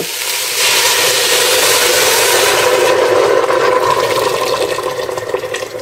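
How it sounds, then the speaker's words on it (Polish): Water pours steadily into a pot of Polish mushroom soup, a loud continuous rushing splash close by that holds for several seconds and eases slightly toward the end, with no talking. "Teraz wlewamy wodę."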